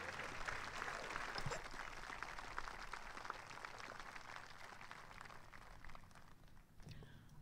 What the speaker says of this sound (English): let's give another round of applause for our 12-man color guard.